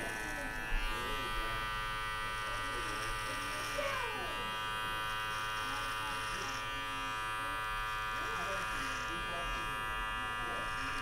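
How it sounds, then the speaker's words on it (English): An electric hair clipper buzzes continuously while trimming a coarse beard in a barbershop, a steady close hum with faint background voices and small shifts as it moves along the hair. "as long as your tension on the clipper isn't too heavy, it will hover along the hair"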